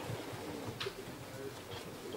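Racing pigeons arrive at their loft in Kosakowo, with soft, faint cooing and bird calls over a steady background hiss and no one speaking.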